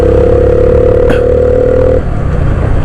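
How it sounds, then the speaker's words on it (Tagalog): Motorcycle engine on standard muffler with a modified air filter, steady mid-pitched drone as it accelerates, one brief clatter partway through, continuous and close with no talk. "Sana dito masyadong maingay yung arangkada ng makina, no. Naka standard muffler lang po ako"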